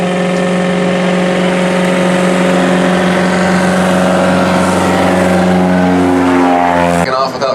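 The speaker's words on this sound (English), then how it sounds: "our pilot Chris over there is going to fire up his 160 horsepower Lycoming engine, and you'll see him taking off" A floatplane's 160 hp Lycoming engine drones loud and steady on its takeoff run, holding a constant pitch before cutting off abruptly near the end.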